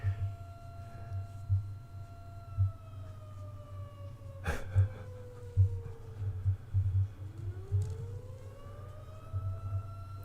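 A siren's tone slowly falls, then rises again, heard at a distance over a steady low rumble with intermittent thuds.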